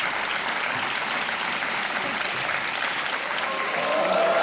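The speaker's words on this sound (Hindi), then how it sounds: "तालियां बजती रहनी चाहिए देवी और सज्जनों" Studio audience applause on a televised Hindi quiz show, a steady dense wash of clapping that holds for several seconds and swells slightly near the end.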